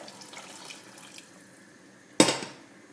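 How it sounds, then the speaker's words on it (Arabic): Water pours in a short, loud splash into a pot of simmering lentil soup with beef, a brief gush after a quiet stretch of low kitchen hiss, then trailing drips. "باش نزيدها كويس ماء هكاكا، نغطيها ونخليها تزيد تغلي"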